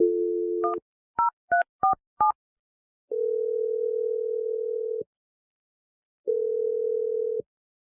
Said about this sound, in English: I'm going to dial his number right now.